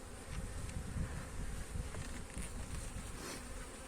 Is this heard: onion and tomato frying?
no